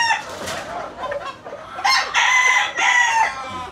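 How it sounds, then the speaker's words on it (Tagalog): Broodstag rooster from a Golden Boy cross clucking softly up close, then letting out a loud, clear crow that carries to the end. "Ito yung broad stag natin."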